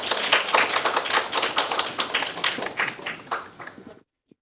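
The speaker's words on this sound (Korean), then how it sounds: "김지연 약사님한테 큰 박수 한번 부탁드리겠습니다" Audience applause for a pharmacist speaker at a parents' lecture on youth drug problems, dense and steady claps filling the room for about four seconds before cutting off abruptly.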